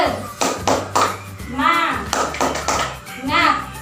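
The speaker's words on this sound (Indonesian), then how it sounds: "Kita tepuk semangat terlebih dahulu ya." Schoolchildren in a classroom chant together in rhythm with a teacher, voices rising in sung bursts between sharp group claps in a quick, patterned beat, loud and close.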